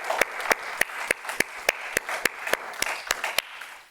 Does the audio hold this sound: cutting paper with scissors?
no